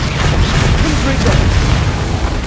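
Confringo fire spell blast in Hogwarts Legacy, a heavy rumbling boom with crackling burst filling a couple of seconds, loud and close, with a voice speaking alongside.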